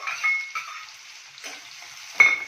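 Chopped onions and green chillies sizzle steadily in hot oil, with a few sharper crackling bursts and stirring scrapes, close and moderately loud for a tomato egg omelette curry.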